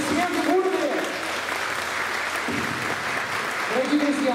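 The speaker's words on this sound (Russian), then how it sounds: "Аплодисменты будут!" Applause from a crowd at a gala concert fills the room, steady clapping throughout while a voice speaks over it.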